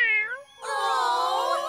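A cartoon sand cat gives a short, bright, rising meow, followed right away by a longer, wavering meow with strong harmonics, close and loud.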